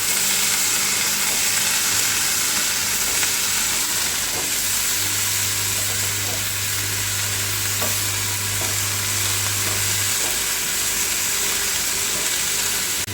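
Onion stalks fry in oil with salt and turmeric, a steady dense sizzle near and loud throughout, with occasional soft stirring scrapes and no voices.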